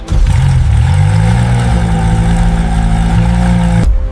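A 1,600 HP Koenigsegg Jesko Absolut engine fires up at the factory, a loud, steady, deep mechanical roar with rising harmonic tones, holding strong for nearly four seconds before cutting off abruptly.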